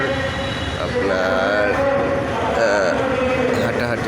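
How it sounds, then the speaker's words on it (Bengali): A train rumbles past close by, wheels clattering steadily, with a horn-like tone sounding while a person talks nearby. "আমাদের গাড়িটি থেমে রইল আর এ সামনে দিয়ে ট্রেনটা চলে গেল"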